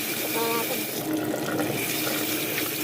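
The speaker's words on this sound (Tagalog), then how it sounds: "Kaya kalakas ng tubig dito." Strong running water gushes from a kitchen tap in a steady, loud rush, with a person speaking over it now and then.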